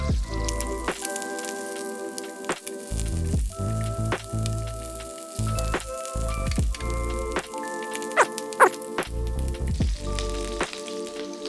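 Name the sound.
squid frying in pans, sizzling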